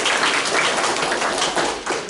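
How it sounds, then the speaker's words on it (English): An audience gives a dense, steady round of applause for ballet students from a summer intensive program at a school of ballet and performing arts, with continuous overlapping claps sustained at even loudness throughout. "Let's give them a clap."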